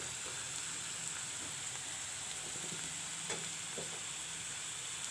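Chopped medium onions and a few bay leaves frying in a pan for a banana kofta curry, giving a steady, fairly quiet sizzle with faint crackles and pops throughout, no voices.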